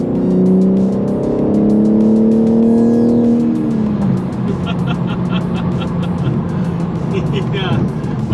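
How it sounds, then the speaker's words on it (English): A BMW G82 M4 Competition sports car gives a loud exhaust note on a test drive, its engine climbing in pitch through revs before dropping back to a lower drone, with someone talking over it. "So we get a little bit of engine note right here before we take it back."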